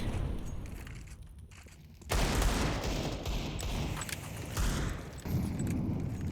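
Counter-Strike gunfire on the Vertigo map during a competitive ESL league match: fairly quiet bursts of rapid shots crackle and rattle, with a sharper, louder volley a couple of seconds in.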